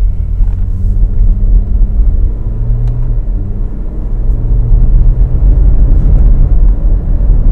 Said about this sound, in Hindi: ये आ गई पहले गियर में गाड़ी, अभी हम इसको मैन्युअली चलाएंगे।